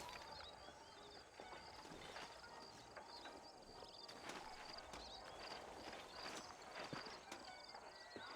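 Horse hooves clip-clop steadily in the Western video game Red Dead Redemption, set in New Ulster, under a busy ambient bed with occasional sharper clatters and a possible whinny.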